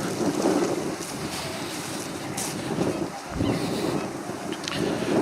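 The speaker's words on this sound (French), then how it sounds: "Alors, il y a pas mal de vent." Strong wind blows across an open spot, buffeting the microphone in a continuous rough roar with gusts that swell and ease.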